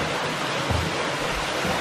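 Waterfall with an overhang at a rock preserve, a steady broadband rush of falling water heard fairly close and alone, with faint low gusts of wind.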